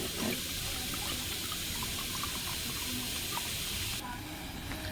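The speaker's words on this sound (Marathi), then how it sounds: "आता आपण याच्यामध्ये पाणी टाकून घेऊया." Water pours steadily into a pot of spiced masala rice being prepared as khichdi-style rice, a continuous close rushing splash that runs the whole time with no voices.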